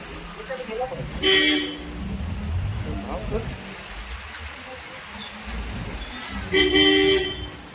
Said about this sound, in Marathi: फुल ट्रॅफिक